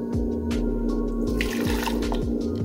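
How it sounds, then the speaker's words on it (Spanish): Water pours in a steady, close stream into a blender jar holding chopped onion and garlic for a squash purée, a continuous splashing gurgle that lasts the whole moment. "ahorita le voy a poner agua de aquí a aquí"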